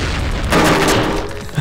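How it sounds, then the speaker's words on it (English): A nuclear missile launched at an enemy dummy ship in the video game Cortex Command, heard as a sustained roaring burst of explosive noise swelling midway, then a short thump near the end. "let's launch a nuclear missile at them"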